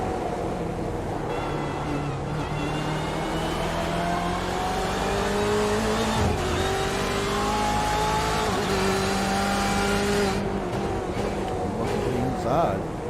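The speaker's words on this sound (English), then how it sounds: "He is out there in that BMW GTE car." BMW GTE race car engine in a Daytona racing video game, a steady sustained drone with shifting pitch through gear changes, heard continuously under commentary.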